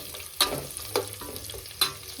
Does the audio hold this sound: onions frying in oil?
yes